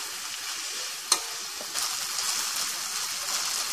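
Tomatoes fry in a pan with a steady, close sizzling hiss, broken early by a single sharp utensil clink, no one speaking.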